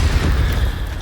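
A fire spell, Incendio, cast in Hogwarts Legacy bursts as a loud low whooshing boom that fades over about a second, with no talk.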